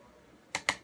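A computer mouse gives two quick, crisp clicks close by, a fraction of a second apart, in an otherwise quiet room.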